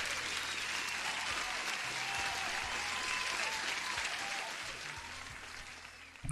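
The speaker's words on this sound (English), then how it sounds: "Applause, everyone." Steady, dense applause from a crowd hisses evenly throughout, moderately loud and unbroken, then thins slightly near the end, with faint background talk.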